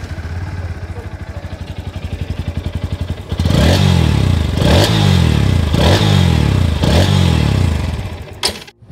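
A Bajaj Pulsar NS160 motorcycle idles with a rapid, even thump, then revs loudly four times in quick blips before easing back down, heard up close with no talking.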